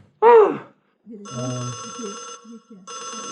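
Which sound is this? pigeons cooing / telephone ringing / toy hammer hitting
telephone ringing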